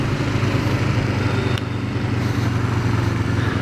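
A Kawasaki Ninja 500R motorcycle rides along with a steady, close engine drone and rushing wind noise, holding an even pitch throughout.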